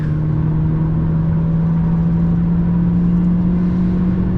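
A 2019 Mercedes CLA200 with 163 hp accelerating hard on a motorway from 100 to 200 km/h. Steady in-cabin engine drone with a rising tone sits under heavy wind and road roar, continuous and without talk.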